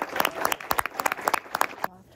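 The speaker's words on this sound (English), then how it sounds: "this resolution passes and clapping will now be in order" Conference delegates break into brisk applause after a resolution passes, a dense run of sharp hand claps with some voices mixed in, ending abruptly.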